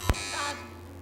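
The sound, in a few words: quiz show buzzer pressed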